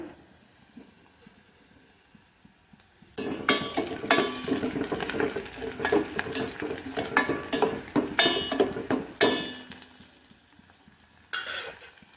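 Curry leaves fry in a pan with onions, a sudden burst of sizzling and hissing followed by repeated scraping stirs, close and loud, then quieting briefly before another crackle.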